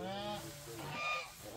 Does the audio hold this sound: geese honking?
yes